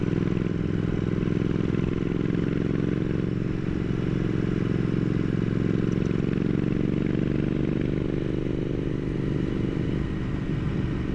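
Motorcycle engine droning steadily throughout, captured close up from a helmet-mounted camera during a ride, with a continuous low, harmonic hum and wind noise and no voices.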